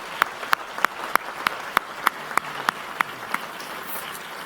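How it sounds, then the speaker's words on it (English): A graduation ceremony audience at the RSM MSc event in Willem Burgerzaal claps in a slow, evenly spaced series of sharp single claps, roughly a dozen crisp strikes in a quiet hall, fading toward the end. "It's a big round of applause."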